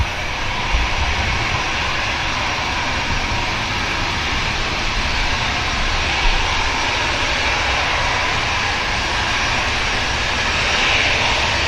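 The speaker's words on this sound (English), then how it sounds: "Looks like the EasyJet's been given clearance." An EasyJet airliner's jet engines spool up after takeoff clearance at Manchester Airport, a steady broad roar that holds evenly throughout, fairly loud and without voices.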